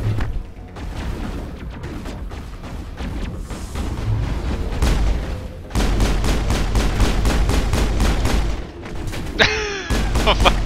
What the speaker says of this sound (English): Oh, we got rocket fire. We have rocket fire.